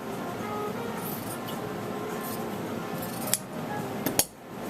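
Scissors snip through lace trim, giving a few short, crisp clicks near the end over a low, steady room hum.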